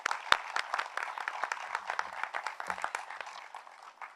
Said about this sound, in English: if I could ask you all to just give them applause for their commitment.